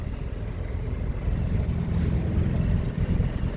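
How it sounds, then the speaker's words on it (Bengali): A shikara boat moves across the backwaters at Alleppey, giving a continuous low rumble of motor and water with wind buffeting the microphone throughout. "আমাদের বোট চলা শুরু করলো। এই যে বোট, শিকারা বোট।"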